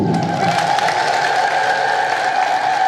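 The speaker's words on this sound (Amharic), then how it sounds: "አጨብጭቡ።" A church congregation claps together at a saint's feast-day sermon, a dense, steady wash of many hands continuing without pause from start to end, loud and close with no talk over it.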